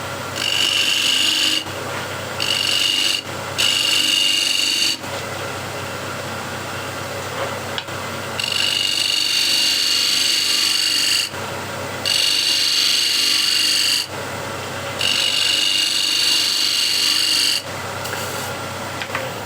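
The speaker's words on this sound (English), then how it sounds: "turn it up on the side and use it as a shear scraper" A scraper held on its side as a shear scraper cuts wood spinning on a lathe, giving loud rasping bursts that start and stop repeatedly over the motor's steady whine, close and without talk.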